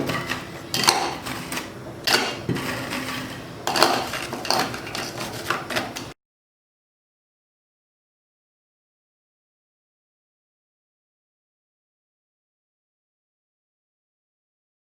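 An electric chopper grinds cake ingredients into a fine flour-like powder, a rattling, whirring buzz pulsing for about six seconds before cutting off into silence.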